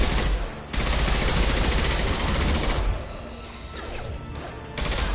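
Heavy sniper rifle shots in Mass Effect 2 boom loudly in a dense, continuous barrage of crashing gunfire and impacts, with brief dips between volleys.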